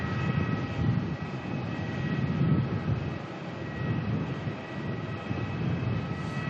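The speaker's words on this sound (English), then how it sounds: "Next arrival coming on in Qantas" A Qantas airliner arriving at Melbourne airport from Sydney produces a steady, moderately distant jet engine drone with faint high tonal whines, even in level and rumbling low throughout.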